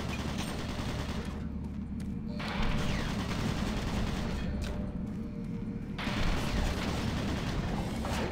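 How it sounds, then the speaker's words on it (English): Automated turret guns in Doom 3 fire in a dense, unbroken stream of rapid gunshots and explosions, loud and close throughout, with slight surges and dips in intensity and no speech. "Warning. Automated turret guns online."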